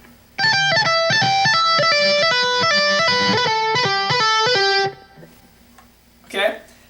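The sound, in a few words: slowed-down electric guitar solo, pentatonic pattern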